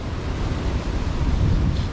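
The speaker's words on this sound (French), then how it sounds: "il y a un petit peu de vent" Wind blows at the water's edge during fishing, a steady, rushing broadband noise with low buffeting rumble across the short stretch, with no voices.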